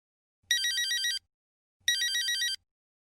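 Two bursts of a bright electronic telephone ring, each lasting under a second with a pause between, played cleanly with no voices as the lead-in to a dialogue in an English listening exam.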